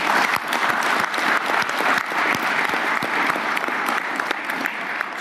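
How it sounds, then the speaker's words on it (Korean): Steady, dense applause from a room of people at a cabinet meeting, applauding in encouragement for a national sports team and its support staff, loud and continuous for about five seconds with no speech over it. "우리 격려의 박수 한번 부탁드릴까요?"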